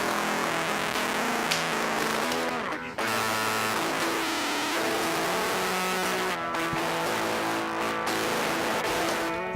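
Dense, distorted electric guitar with howling feedback tones sustaining and shifting over a thick, saturated wash of fuzz from a distortion pedal.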